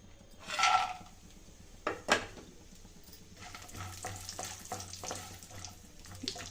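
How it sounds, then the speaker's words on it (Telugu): Dry fruits roasting in ghee in a pan on a stove, giving a soft sizzle with a few sharp clinks of a spoon stirring against the metal, close and fairly quiet. "ఇందులో డ్రై ఫ్రూట్స్ రోస్ట్ చేసుకుందామండి"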